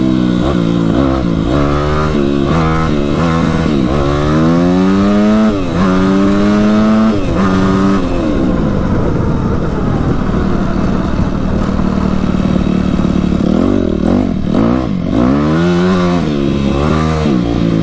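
A Yamaha YZ250F dirt bike engine revs hard through repeated rising and falling pulls while the rear tire spins out, loud and close, with a rough, throaty tone and no talking.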